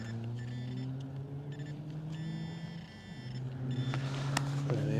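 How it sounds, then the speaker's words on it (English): A car passes close by with a steady engine hum that swells toward the end, with electronic beeps and chirps scattered through. "So about that car going past, that's noisy."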